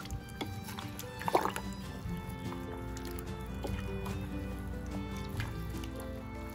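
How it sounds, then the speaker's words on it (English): Hands mashing and massaging potatoes in a bucket of water, soft wet squishing and sloshing with occasional drips, quiet and close, with no talking. "start to massage and mash the potatoes with your hands in the water."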